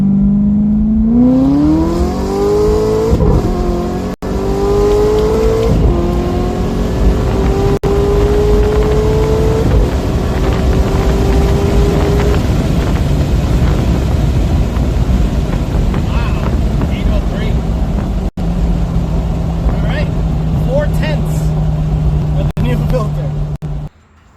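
A Corvette C6 ZR1 with a new air filter pulls hard from 60 to 130 mph, its engine note climbing steadily through the gears with brief shift dips, loud and close with constant wind rush throughout.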